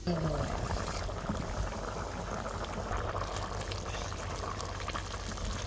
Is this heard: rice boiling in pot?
yes